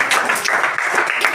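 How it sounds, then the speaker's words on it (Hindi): Loud, dense applause fills a school gathering for a Gandhi Jayanti celebration as a guest is welcomed, a steady wash of many hands clapping together with no break. "इनका भी जोरदार तालियों से स्वागत।"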